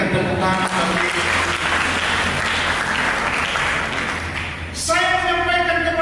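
A church audience gives a short burst of steady applause, full and close, before music and voices take over near the end.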